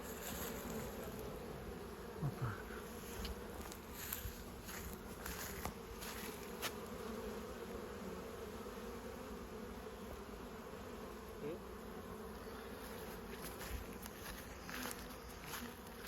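Bees buzz around a hive on an early spring day, a dense, continuous hum of many insects close by at low-moderate level, with individual bees passing nearer now and then.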